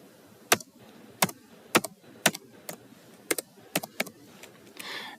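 Several sharp, distinct keypresses on a computer keyboard tap out a value in an irregular rhythm, close and clear in a quiet room, with a softer rustle at the end.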